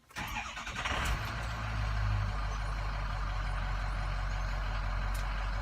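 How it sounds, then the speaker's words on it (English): A truck engine cranks briefly and catches, then settles into a loud, steady idle rumble that continues close by with no talking. "Let's go ahead and start up the truck."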